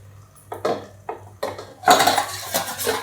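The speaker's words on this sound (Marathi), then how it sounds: "झाकण काढते" Metal lid lifted off a cooking pot in a home kitchen, a few sharp clinks and clatters at the start, then a brighter scraping rattle of metal on metal, close and clear with no voices.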